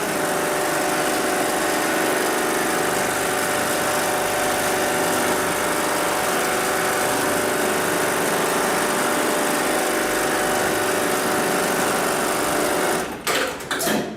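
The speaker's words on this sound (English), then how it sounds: "I'm going to go ahead and tap the pedal on the left-hand side. That's going to initiate the sewing cycle." A programmed upholstery sewing machine runs an automatic stitch cycle with a continuous loud, high mechanical whir for about thirteen seconds, then stops abruptly with a couple of clicks as the thread trimmer cuts.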